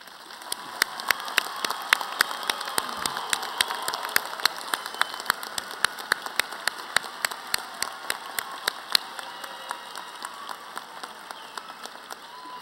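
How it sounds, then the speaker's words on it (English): Sustained audience applause at a university college of engineering commencement ceremony, steady clapping from a large crowd for the graduates, filling the room without talk over it. "Let's give us all of our graduates another round of applause."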